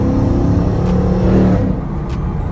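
A 2011 Ford Mustang GT revving through a rev-matched downshift into second gear, a loud close engine blip rising and settling into a steady rumble, no speech over it.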